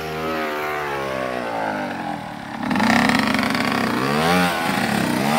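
Dirt bike engine, a two- or four-stroke, revving hard during a wheelie attempt, loud and close with rising and falling pitch that jumps louder midway and holds a strained high rev.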